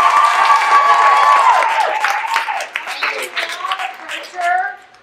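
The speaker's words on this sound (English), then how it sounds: "can we all please give a massive round of applause for Peyton?" Audience applause and cheering for 14-year-old Peyton Garcia at a show: a crowd claps under a loud sustained tone and some voices, the clapping thinning and uneven toward the end.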